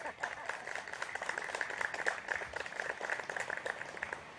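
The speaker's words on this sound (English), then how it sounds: "So a round of applause for the ladies." Wedding guests applaud the bridesmaids with a continuous, fairly distant patter of many hands clapping at an even level throughout.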